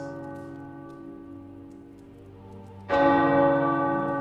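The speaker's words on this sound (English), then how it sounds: "The tower bells are ringing." Church tower bells in the game Marvel's Midnight Suns start ringing loudly after a quiet sustained tone, a sudden strong strike that rings on with rich lingering overtones.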